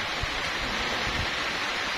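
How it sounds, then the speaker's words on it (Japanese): Rain falling outdoors on Palawan island in the Philippines, a broad steady wash of hiss with a couple of soft low thumps and some wind buffeting the microphone, no voices. "雨が降ったりやんだりが続いております。"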